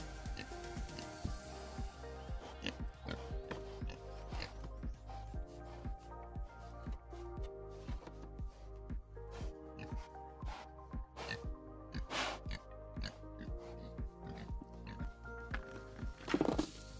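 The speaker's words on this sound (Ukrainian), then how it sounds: "От, ну, а це наша поросятка." Pigs in a farm pen noisily eating a soupy homemade feed mash: repeated rhythmic grunts, snorts and wet chomping close up, with occasional louder squeals and a person talking at times.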